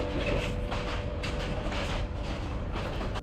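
Inside a moving passenger train car in Bangladesh, a continuous low rumble and rattle of the carriage fills the space, with faint rhythmic clatter from the wheels.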